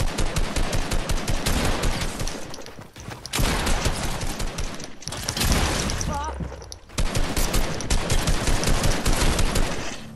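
Sustained automatic gunfire from Fortnite combat, dense rapid bursts running nearly the whole time with two short breaks, loud and close.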